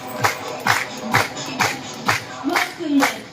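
A group claps in unison during a guided clapping exercise, with about six spaced, steady claps landing close by, accompanied by background murmur and brief vocal sounds from the crowd.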